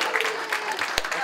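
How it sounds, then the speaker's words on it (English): A school auditorium audience at a DARE graduation gives a steady, dense round of applause for an essay winner, loud and close throughout with a voice briefly underneath. "One big round of applause for our essay winner."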